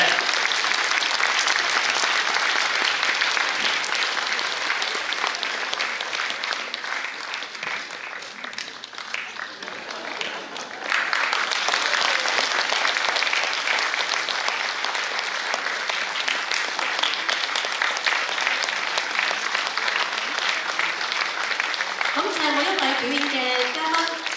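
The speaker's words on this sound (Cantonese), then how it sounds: "請大家再次熱烈嘅掌聲俾我哋台上咁多位嘅表演者" An audience at a concert hall celebration applauds performers on stage with loud, sustained clapping that dips briefly midway, then swells again before a voice begins speaking near the end.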